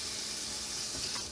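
Water poured from a container into a bread machine pan as the first liquid for soft pretzel dough, a steady close splashing pour with broadband hiss lasting just over a second, no talking.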